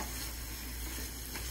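Tomato paste, carrots, onions and garlic stirred in a hot pan for Ukrainian borscht, making a constant soft sizzle at low level with no voices.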